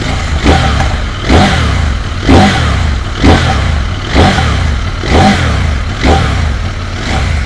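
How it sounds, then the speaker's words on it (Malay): CFMOTO 800MT motorcycle exhaust revving in repeated bursts, roughly one throttle blip per second, loud and close with a steady idle rumble between. "Ini bunyi exhaust dia."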